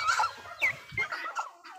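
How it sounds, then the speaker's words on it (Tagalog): A large farm goose calls close by, giving about five short, honking cries in quick succession with brief gaps between them. "O, yun yung gansa natin guys, oh."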